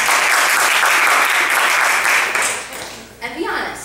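A live audience at an original-music performance applauds to vote for a song, sustained clapping loud at first then thinning out, followed by a few whoops and a voice near the end.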